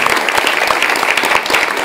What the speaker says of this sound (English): Big round of applause one more time for our